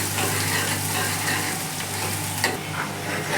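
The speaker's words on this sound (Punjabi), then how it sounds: "ਦਾਲ ਵਿੱਚ ਜਿਹੜਾ ਆਪਾਂ ਤੜਕਾ ਲਗਾਉਂਦੇ ਆ ਇਹਦੇ ਵਿੱਚ ਜਿਹੜੇ ਪਿਆਜ਼ ਆ ਇਹ ਡਾਰਕ ਬ੍ਰਾਊਨ ਕਰਕੇ ਹੀ ਆਪਾਂ ਪਾਵਾਂਗੇ" Onions sizzle in hot oil for a tadka for chana dal, a loud, steady, close frying hiss with faint stirring.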